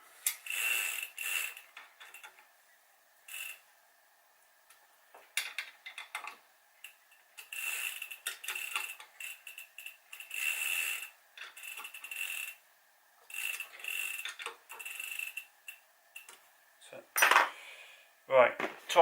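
Bicycle crank bolts are snugged up with a hand tool before torquing, making intermittent metallic ratcheting clicks and clinks in short bursts with quiet gaps between them.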